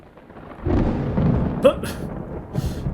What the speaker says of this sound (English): Lightning right on cue.